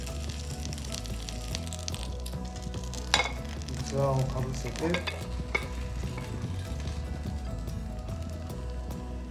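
Frozen gyoza sizzle steadily in a pan over medium heat, a continuous close frying hiss with occasional clatter as a lid is handled, while a voice speaks briefly.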